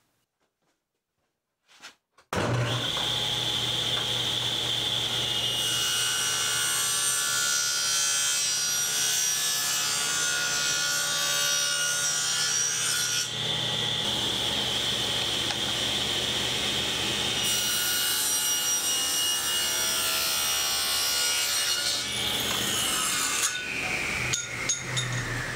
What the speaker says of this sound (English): Next step is to cut a rabbet on this back corner, and that'll happen in two passes at the table saw.